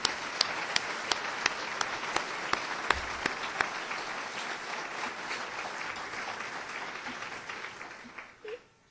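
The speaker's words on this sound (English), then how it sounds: "But that group deserves a round of applause." An assembled audience at a university presidential announcement claps steadily for several seconds, with a few sharp claps standing out at the start, before the applause tapers off and stops.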